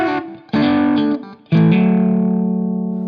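Electric guitar rhythm fill using quick hammer-ons and pull-offs on a lower string, played as three short phrases, the last chord left ringing and slowly fading, clean-to-lightly driven tone, close and alone.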